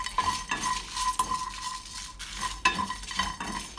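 Cumin and coriander seeds being stirred and dry-roasted in a pan for an onion-fried chicken curry masala: steady scraping and clinking of a spoon against the pan with a soft sizzle, close and continuous, no talking.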